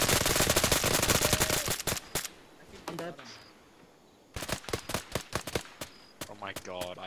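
Rapid automatic gunfire from an Arma game SCP operation crackles in loud, dense bursts, pausing briefly before resuming in volleys, with voices talking in between.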